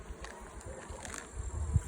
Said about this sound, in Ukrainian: Ось така кількість у нас бджоли в цих нуклеусах.